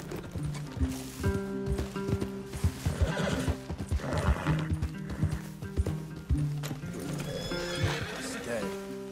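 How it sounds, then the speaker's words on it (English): Horses in the Red Dead Redemption 2 video game whinny and clip-clop on the ground nearby, with several neighs and scattered hoof thuds over a soft game ambience. "Leave the horses in the trees there."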